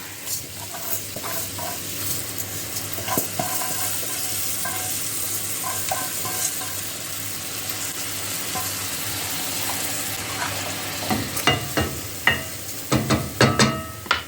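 Steady sizzling of millet frying with onion and carrot in a pan, with scraping stirs and a few sharper clatters near the end; no voices.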